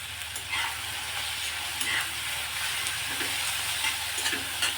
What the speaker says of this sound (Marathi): एक 2 मिनिटं परतून घेऊ आपण.